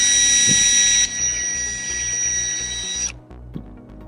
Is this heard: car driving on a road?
no